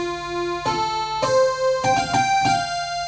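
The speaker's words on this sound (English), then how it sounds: "I'm going to play what's called a sawtooth wave right now" Bright, buzzy sustained sawtooth-wave synth tones shift through a few notes in sequence, with harmonics-rich edges and sharp attacks at each change.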